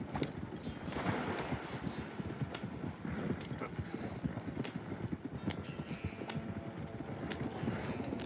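Horse hooves clip-clop steadily in Red Dead Redemption II, a continuous fast patter of hoofbeats at moderate level with a soft background bed, no talking over it.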